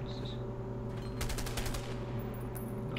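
A Way Out gameplay with faint, quick gunshots around the middle, set low under the steady game ambience and music, with no talk over them.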